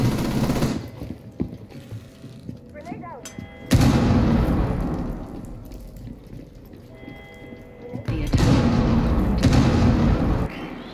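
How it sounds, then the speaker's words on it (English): A grenade explodes during Rainbow Six Siege gameplay, producing loud booming blasts with rumbling, crackling debris that swell twice amid game noise, with a short radio-like voice heard too. "Grenade out."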